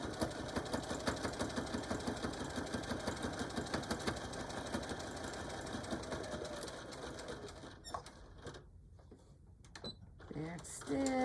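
A sewing machine runs a fast, even mechanical chatter while stitching a denim jean pouch for a cell phone, then slows and stops for the back stitch, with a short mechanical clunk and brief rustling at the end.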